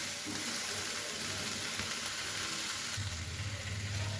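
Mashed shrimp with coriander leaves fries in a pan on a gas stove, giving a steady, loud, close sizzle with light stirring scrapes throughout.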